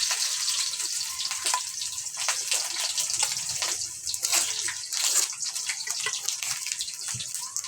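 Garlic and onion sautéing in a pan, a loud, steady hiss and crackle of sizzling oil with scattered pops throughout, with little talk over it.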